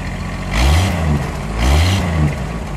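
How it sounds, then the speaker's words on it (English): A 1961 AMC Rambler American Custom convertible engine revs twice in quick succession, each loud rise swelling and falling back to a rumbling idle, close by and without talk. "we'll give it a rev as well"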